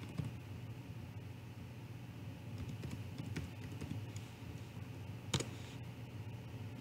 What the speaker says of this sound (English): Go ahead and type in wallet passphrase